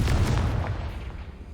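A Confringo blasting curse explodes in Hogwarts Legacy, a single heavy, close boom with a low rumbling tail that decays over about a second.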